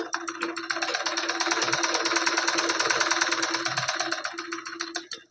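A sewing machine runs a straight seam on a blouse: a loud, fast, even mechanical stitching rhythm that carries on for about five seconds, then halts.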